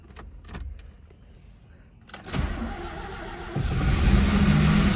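A 1984 Mazda RX7 GSL-SE rotary engine, just fitted with a new fuel pump, cranks briefly and then catches, settling into a loud, steady run close by after a few quiet clicks and rattles.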